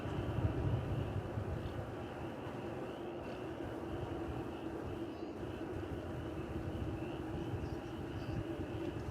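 Distant airplane rumbling steadily at DFW Airport, a broad continuous roar that holds level throughout without clear rise or fall.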